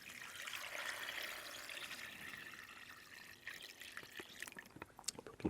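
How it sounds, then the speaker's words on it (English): Cold marinade is poured over frozen boiled crayfish, giving a faint, soft trickle and splash of liquid that thins into scattered drips toward the end, quiet and without talk. "And then you just pour this over here."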